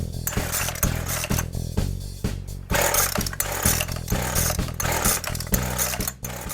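A Weedeater Featherlite gas string trimmer that had sat unused for years sputters to life after repeated pull-starts and choke adjustments. Its small two-stroke engine runs loud and close but rough, revving and dipping in uneven, choppy bursts.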